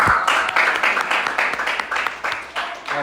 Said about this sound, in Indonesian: Tepuk tangan buat Nisa Anindya